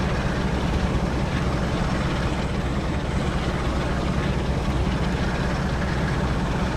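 Steady low engine drone inside the engine room of a train in Train Sim World on the Northern Trans-Pennine route, a continuous loud rumble with a heavy low hum and no talk.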